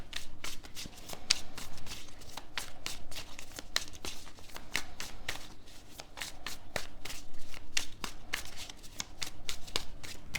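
Tarot cards being riffled and shuffled up close, a rapid flutter of papery snaps repeating steadily throughout, with no talking.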